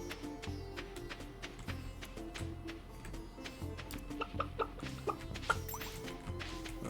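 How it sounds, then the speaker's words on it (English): Chickens on a Stardew Valley video game farm cluck softly amid steady ticking and tapping game sounds and a looping musical background, with no talking. "I mean, look at that. We got chickens."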